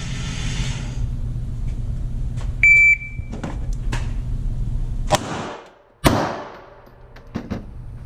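A short, sharp electronic beep from a shot timer, followed by a couple of loud gunshot cracks from a Walther PPQ pistol, fired strong hand only, against steady background noise.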